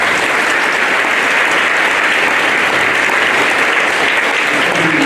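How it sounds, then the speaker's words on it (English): A crowd at a Long Beach middle school veterans program gives a round of applause for the veterans in attendance, a loud, steady wash of clapping that fills the whole stretch with no break. "I'd like to give a round of applause to all the veterans in attendance"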